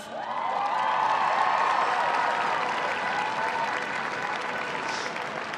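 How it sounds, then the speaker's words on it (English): Crowd applause during a winning captain's speech after an All Ireland intermediate club football final, a sustained wash of clapping from a large gathering, steady and fairly even, with a faint cheer or two mixed in. "Give them a round of applause."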